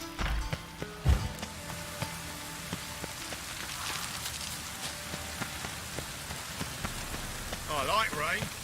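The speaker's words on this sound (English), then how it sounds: "I like rain." Rain falls steadily in The Witcher 3: Wild Hunt, a soft continuous hiss under ambient game sound, with a couple of brief thumps near the start and a short bright burst near the end.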